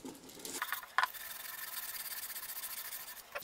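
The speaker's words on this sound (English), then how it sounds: "Now I need to sand the middle." Sanding the middle of an Amaus ukulele kit body, a soft rasping rub that runs continuously at low level, with a brief knock near the start.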